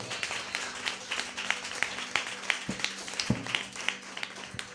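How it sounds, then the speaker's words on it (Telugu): Church congregation clapping at a pastor's call, rhythmic hand claps repeating steadily at a moderate distance, fairly quiet, with a voice briefly audible among them. "గట్టిగా చప్పట్లు కొట్టు."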